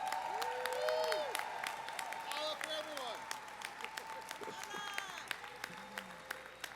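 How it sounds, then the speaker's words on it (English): A convention audience in Long Beach applauds during a Sunday general session, a broad even patter of clapping that carries through under overlapping tonal sounds, gradually thinning toward the end. "Let's give them a big, big round of applause"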